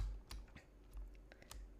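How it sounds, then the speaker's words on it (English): Computer keyboard keys are pressed in scattered, irregular clicks while Tomb Raider Remastered is played with tank controls, close and fairly quiet. "I am playing this on keyboard with tank controls"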